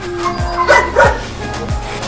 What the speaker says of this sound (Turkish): Kangal annemiz burada ve yanında yavruları.